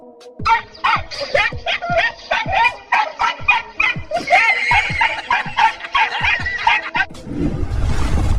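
A dog barks at a cat in a run of sharp, rapid yaps repeated over several seconds, close and loud, mixed with hissing or yowling, before a burst of rough noise at the end.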